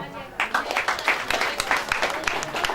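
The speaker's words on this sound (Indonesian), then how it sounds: "Nah, tepuk tangan dulu." A crowd breaks into applause, a dense patter of many hands clapping that starts suddenly and continues steadily, at a Balinese Hindu priest ordination ceremony.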